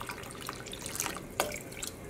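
Dye poured into the water of a yarn dyeing pot gives close, soft trickling and splashing, with a small plop partway through, over a steady wet background.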